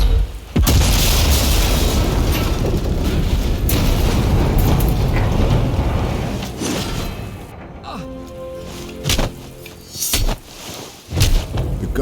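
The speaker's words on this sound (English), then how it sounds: "All right, the gun will blow when it's fired." In Sniper Elite 5, a sabotaged rifle blows apart when fired, giving a loud booming blast followed by rumbling debris and several further thuds and pops that fade out.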